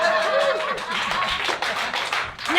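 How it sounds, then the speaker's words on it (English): A comedy club audience claps after a comic's short song, a steady patter of hands mixed with scattered chuckles and crowd murmur, fairly close and continuous. "You can clap, it wouldn't fucking kill you."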